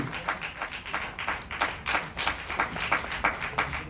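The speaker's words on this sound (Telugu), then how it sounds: "మీరందరూ చప్పట్లు కొడుతున్నారా కరతాళ ధ్వనులు చేస్తున్నారా" Audience clapping during a spiritual discourse by a guru, a steady patter of many hands with rhythmic peaks, moderately loud and continuous, no voices over it.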